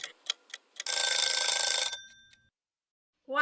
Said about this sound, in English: I hear our timer going off.